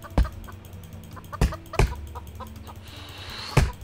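A chicken in the video game Lumber Tycoon 2 gives a few short, sharp clucks at irregular intervals over quiet background noise.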